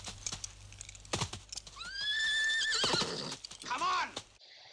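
Horses neigh and whinny from a TV episode of the 1970s series UFO: a long, loud, high whinny that rises and falls, with a second neigh after it, while a person talks over the start.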